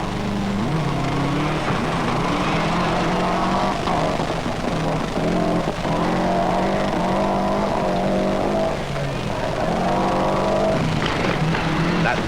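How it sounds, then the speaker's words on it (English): Subaru Impreza rally car with a flat-six engine at the 1995 Boucles de Spa rally, its revving note rising and falling through repeated gear changes, loud and continuous without any voices. "That beat of that flat 6 engine can't be mistaken anywhere."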